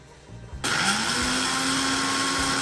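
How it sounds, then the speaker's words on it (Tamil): A mixer grinder whirs up abruptly and runs steadily at high speed, grinding salt, turmeric, roasted cumin, pepper and cardamom, its motor whine loud and continuous after a short quieter start. "எடுத்து வச்சிருக்கிற உப்பு, மஞ்சள், வறுத்து வச்சிருக்கிற சீரகம், மிளகு, ஏலக்காயை அரைச்செடுக்கணும்"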